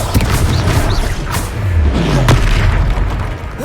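A Confringo spell explodes in the Hogwarts Legacy video game, a loud, deep booming blast with rumbling low-end rolling on for several seconds amid swooshing magical effects, with no speech over it.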